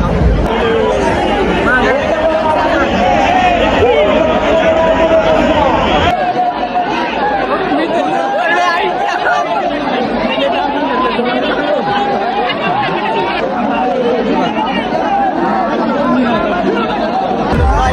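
Dense crowd chatter at a packed doorway, a continuous loud babble of many voices close by with no break.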